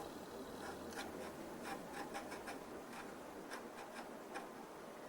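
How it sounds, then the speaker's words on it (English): Putty being sanded on a 1/32 scale F-14 model: faint, close rasping strokes repeating in a steady rhythm, with no talking. "You just put a putty and sand it and check it and sand it all again"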